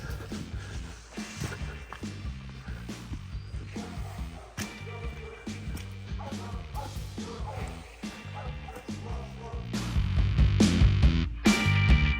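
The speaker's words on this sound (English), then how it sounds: "there was a crescendo of barking dogs a moment ago" Dogs bark on a countryside walk near Balcombe heading toward Ardingly Reservoir, their calls mixed into a loud, dense, continuous wash of outdoor noise that swells toward the end.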